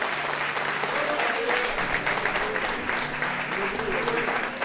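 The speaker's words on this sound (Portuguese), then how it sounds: "dê uma salva de palmas glorificando a Deus" A church congregation bursts into loud, sustained applause at a worship service, with dense clapping filling the room throughout and no one speaking over it.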